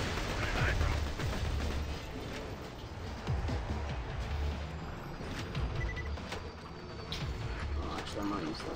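Dense gunfire from a live-streamed shooter video game rattles almost nonstop, with rapid bursts and heavier booming blasts layered throughout at a steady, loud level.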